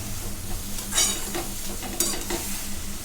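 Prawns and ash gourd with turmeric sizzling in a frying pan, stirred with a utensil in a few scraping strokes over a steady fry.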